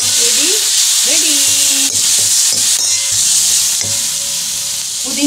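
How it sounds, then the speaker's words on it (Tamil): Mint and green chillies sautéing in a pan for a quick mint rice, giving a loud continuous sizzle with scraping stirs and some clattering of the spoon against the pan, heard close and without talk. "புதினா நல்லா வதங்கிடுது"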